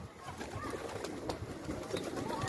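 An Arab breed pigeon coos softly, its low calls faint and partly buried under steady outdoor noise and scattered clicks.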